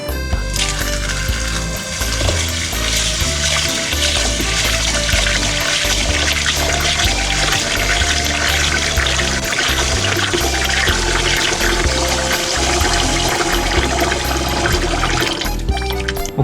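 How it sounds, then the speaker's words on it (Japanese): Two cups of rice for octopus rice are washed in water, producing a continuous busy swishing and sloshing that runs steadily throughout without any talk. "お米を洗います。"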